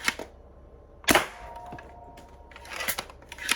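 A spring-powered Alchemist prototype blaster with a heavy spring fires through a cardboard box, a sharp loud snap and thud standing out alone, with a lighter click before it and some rustling handling noises after.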